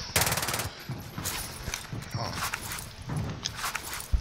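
Gunfire in a Warzone Rebirth match: several bursts of automatic weapon fire, sharp and fairly close, with scattered shots and movement sounds between them, and voices talking over parts of the fighting.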